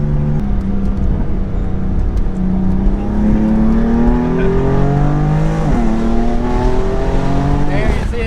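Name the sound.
BMW F80 M3 driving, engine revving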